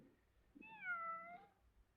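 A single cat gives one clear, rising-then-falling meow, muffled and somewhat distant as if shut in somewhere, over a quiet indoor background.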